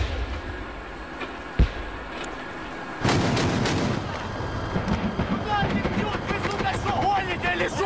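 Gunfire and artillery from fighting near Sloviansk, Ukraine: a sharp distant blast early on, then a loud, dense stretch of shots and rumbling bursts continuing to the end, with voices mixed in.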